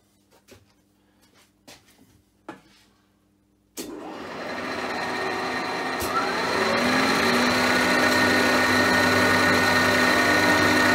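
A few faint clicks and taps, then a Schaublin SV52 milling machine's two-stage motor starts up and whines loudly and steadily, rising slightly in pitch as it spins at maximum speed.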